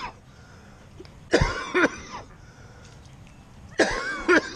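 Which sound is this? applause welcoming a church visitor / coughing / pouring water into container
coughing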